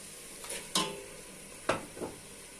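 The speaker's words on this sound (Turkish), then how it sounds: "Şimdi domates koyacağım." Turkey meat cooking in a pan with tomatoes being added, giving a few sharp stirring clatters and soft sizzles over a low steady frying hiss, close and fairly quiet.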